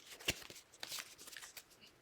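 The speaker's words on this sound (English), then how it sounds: "Yes, this is how I used to shuffle." A deck of playing cards is shuffled close up and quietly, with a sharp riffle snap followed by a run of soft flutters and taps. No one speaks.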